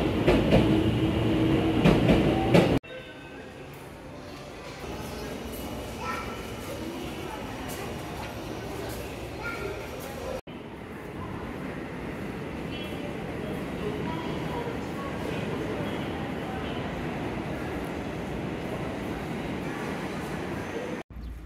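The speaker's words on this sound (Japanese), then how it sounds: "松井山で行き JR 東西線の列車が出発するところになります。" A JR Tozai Line train pulls out of a station, a sustained rolling rumble with rail clatter that swells and carries on steadily after an abrupt shift in the sound.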